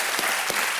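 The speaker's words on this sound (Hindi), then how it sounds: "तालियां बज जाए इनके लिए" Studio audience applause on a televised quiz show set, a steady dense wash of clapping throughout the short moment with no voices over it.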